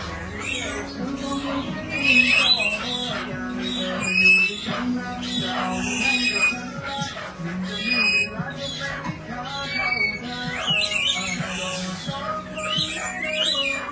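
Caged birds at Bangkok's Chatuchak bird market give off scattered squawks and sharp chirps in irregular bursts, mixed with market bustle and faint voices.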